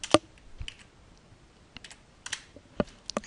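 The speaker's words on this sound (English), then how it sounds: "Now we can type in any score that we want" Keys clatter on a computer keyboard in short irregular bursts of sharp clicks with gaps between, close and fairly quiet, with no one talking.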